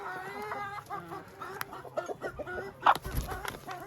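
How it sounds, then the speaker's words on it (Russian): Chicks and old hens feeding on bread soaked in a bucket make soft, close, irregular clucks and short peeps, with one sharper squawk near the end and no talking. "у меня кушают цыплята, старые курочки"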